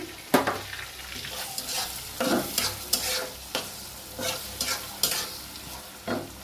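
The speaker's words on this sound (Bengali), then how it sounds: "কাঁচামরিচ এবং পেঁয়াজ এটা ভাজবো" Green chili and onion fry in a pan, a bright sizzle punctuated by about nine sharp stirring scrapes at a loose, regular rhythm, close up with no talk.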